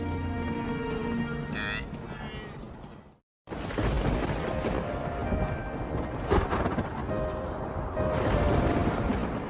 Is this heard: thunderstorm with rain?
yes